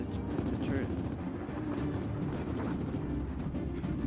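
Rapid gunfire in the shooter Gears of War 4, a continuous rattling stream of shots under heavy low rumble and battle din, steady and moderately loud throughout.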